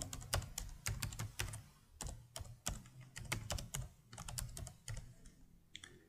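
Rapid, close computer keyboard typing in uneven bursts of sharp clicks, with short pauses between runs of keystrokes, while a name and email are entered into a registration form.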